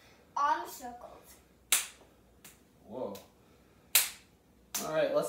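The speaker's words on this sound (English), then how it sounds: "I call these clap arm circles." Sharp, isolated hand claps at spaced intervals during a slow arm-circle exercise in a home basement PE session, each crisp snap standing alone with a brief spoken voice between them.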